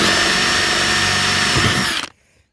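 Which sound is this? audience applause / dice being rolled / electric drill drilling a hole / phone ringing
electric drill drilling a hole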